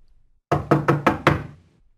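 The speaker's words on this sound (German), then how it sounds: "Es klopft an der Tür." Four quick knocks on a door, close and firm, evenly spaced in a short burst after a moment of silence.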